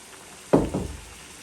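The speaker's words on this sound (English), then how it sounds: "I will add in the remaining mixture I have" Remaining Guyanese parsad mixture poured into a hot pot makes a short sizzling splash lasting under half a second, then fades back to a quiet kitchen background.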